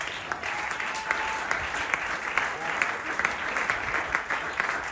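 A church congregation applauds to acclaim God during a sermon, with steady mid-distance clapping from many hands that holds even throughout and has no speech over it.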